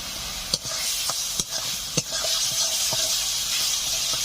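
Spices with salt, turmeric powder, a little sugar and chopped tomato sizzle in a pan while being stirred, a steady close hiss broken by a few sharp scraping clicks of the spoon.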